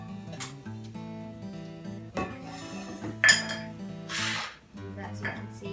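A measuring cup scrapes and clinks against a pan as an Oreo cookie crumb crust is spread and pressed down, with soft rubbing and occasional tapping knocks, under a speaking voice.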